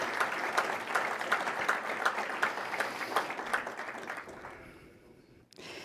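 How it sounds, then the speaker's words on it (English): A crowd at a scholarship gala ceremony applauds steadily with dense clapping, gradually fading out over several seconds before a short break at the end. "Another round of applause."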